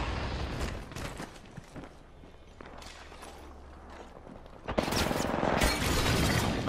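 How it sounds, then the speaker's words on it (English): Enemy gunfire in a sci-fi shooter video game crackles in dense bursts, with a quieter stretch before a loud, sustained volley erupts near the end. "They're shooting at me. Replicator incoming. I am taking fire, friends."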